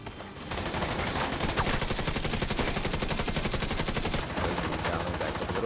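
Rapid automatic gunfire from The Division 2 rattles on in dense, continuous bursts, loud and close, after a brief quiet start.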